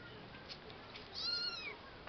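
A faint, drawn-out cat cry rises and falls once midway, distant and thin over a quiet, hissy background.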